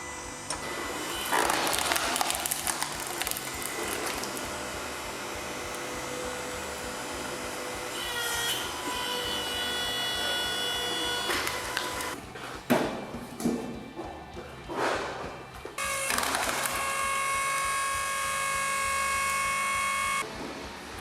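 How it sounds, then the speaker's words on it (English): An AL-KO LSH 520/5 or LSV 550/6 electric log splitter runs with a steady motor whine and hum, close and continuous, with tonal strain and clunks as it works, but no talking. "push down both handles to engage the motor. So we'll just give it a go."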